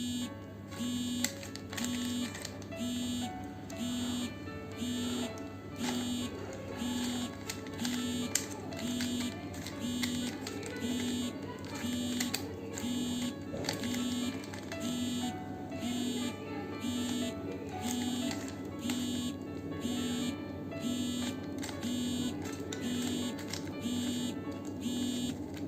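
A Rubik's cube is turned rapidly while solving the white corners. Quick plastic clicks come in a steady, regular rhythm, close by, over a low constant hum.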